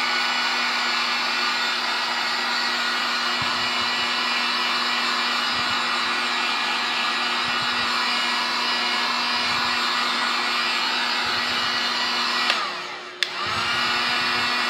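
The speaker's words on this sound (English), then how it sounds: "heat up the foam." A heat gun blows a loud, steady whine and rush of hot air while heating foam plates for Predator cosplay armor, a constant drone with a brief dip and hitch near the end, no voices.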